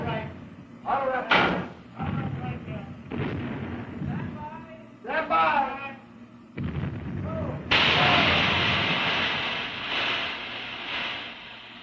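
The battleship Wisconsin's big turret guns firing in 1952, with heavy booming blasts and thuds standing out among the narration, followed by a loud, sustained roar near the end.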